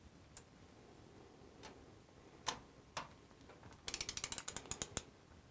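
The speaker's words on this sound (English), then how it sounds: "Using an adapter and an 8mm socket, torque them to 120 inch-pounds." A ratchet with an 8mm socket on an adapter torques 4L60E transmission bolts to 120 inch-pounds: a few scattered single clicks, then a quick run of about a dozen sharp ratcheting ticks, close and clear in a quiet room.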